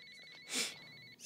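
A telephone rings indoors with a steady electronic trill, heard fairly faint and distant with a soft thump partway through.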